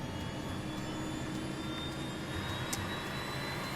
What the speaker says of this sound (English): he records the sound of the engines from inside the cockpit